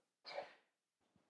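One person sneezes once, a short sharp burst heard faintly at some distance, followed by a quieter breath or sniff a moment later.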